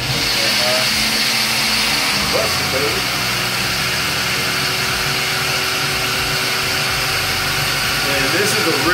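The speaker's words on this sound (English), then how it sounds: "let's go ahead and blend this down" A blender blending a blackberry smoothie runs loudly and steadily throughout, a constant whirring motor with a brief voice speaking over it.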